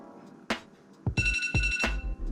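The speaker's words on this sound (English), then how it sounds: "we have about 5 seconds left until the timer goes off" A kitchen timer alarm goes off while instant ramen cooks, loud ringing electronic beeps in short bursts after a quiet moment.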